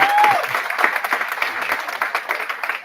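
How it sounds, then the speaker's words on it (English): An audience at a museum anniversary public lecture applauds a gospel choir. The clapping is moderately loud and steady, with a brief whistle at the start, and fades slightly toward the end. "let's have another round of applause."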